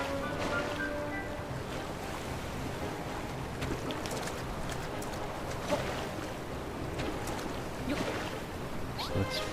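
Steady running water from a channel in Dragon Quest Builders 2, a continuous broadband rush like surf at moderate level with faint in-game tones and small splashes scattered through it.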